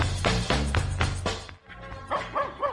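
A dog barks in a rapid run of loud close yaps, then a pause and a few more barks with whiny yips.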